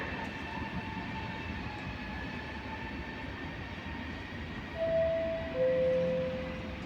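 An Italo high-speed train arrives at Padova station with a low steady rumble under platform ambience, then two clear tonal squeals ring out near the end as it slows.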